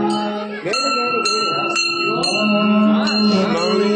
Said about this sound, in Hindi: घंटी बजाओ, घंटी बजाओ।